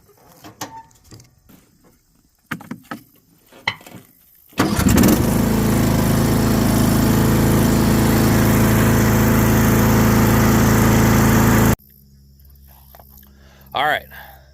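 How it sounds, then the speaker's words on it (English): A lawn mower mowing access trails starts up with a loud roar and runs steadily for about seven seconds, then cuts off. Scattered quieter knocks and handling noises come before and after it. "I was going to get real familiar with that mower today, and I did."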